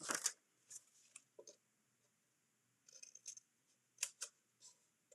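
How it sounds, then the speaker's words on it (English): Scissors snipping paper along score lines to form a box, a few short crisp cuts in separate quiet bursts with pauses between. "we're going to cut up just to that 1 inch mark"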